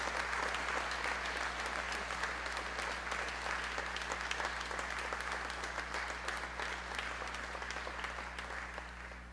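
Sustained applause from a crowd at an 8th grade graduation ceremony, a dense patter of clapping that holds steady and tapers slightly toward the end.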